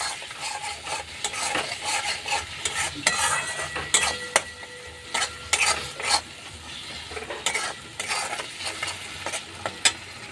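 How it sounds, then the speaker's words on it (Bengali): Paneer curry masala with Kashmiri chili powder is stirred and fried in a pan, a bed of sizzling broken by repeated close scraping and metallic clatters of a spoon against the pan, irregular and busy. "এই সব উপকরণ দিয়ে আবার আমি ভালো করে নাড়াচাড়া দিয়ে ভালো করে কষে নিচ্ছি"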